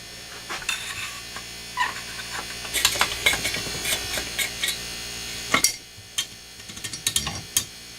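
Screws being removed from the muffler of a 1980s Stihl 034 chainsaw, with scattered faint clicks and metallic taps of a tool over low hum, a few sharper knocks near the end.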